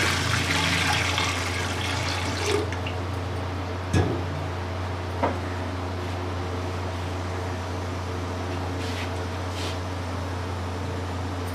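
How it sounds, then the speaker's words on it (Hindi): Water is poured into a cooking pot on a stove to boil spinach for aloo palak, making a steady rushing splash over a low constant hum, broken by a few faint clinks. "पालक को बॉयल करने के लिए पानी डालेंगे।"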